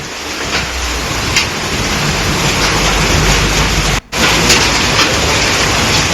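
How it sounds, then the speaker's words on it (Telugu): Heavy rain pours down in a dense, steady roar driven by strong gusting wind, loud and continuous with a brief dropout partway through, during a storm in Uttar Pradesh. "సో గాలివాన బీభత్సం చూస్తున్నాం."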